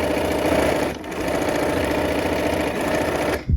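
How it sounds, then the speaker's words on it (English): A sewing machine stitches fabric with a loud, steady mechanical whir of fast repeating needle strokes, dips briefly near the start, then runs on until a clunk as it stops. "let's go ahead and sew"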